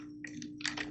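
Quick keystrokes on a computer keyboard, a short burst of soft clicky taps at close range in a quiet room.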